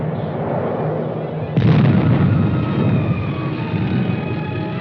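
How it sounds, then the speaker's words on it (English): Artillery firing on enemy positions in a 1950s US Army armored combat exercise, a loud sustained rumble broken by a sudden heavy blast partway through, dense and close with no talking. "the team commander asks that the artillery shift its fire to enemy positions on the flank and rear of the enemy's forces"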